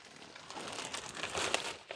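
A plastic waste bag crinkles and rustles steadily up close for a couple of seconds, with brief zipping strokes near the end, quiet and alone.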